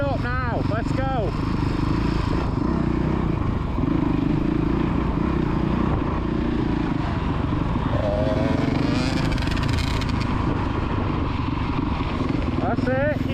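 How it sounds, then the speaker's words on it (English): A kids' motocross bike revs on a dirt motocross track, its high buzzing engine rising and falling throughout while someone shouts encouragement over it and other bikes whine in the background. "That's it, rev it up now, let's go."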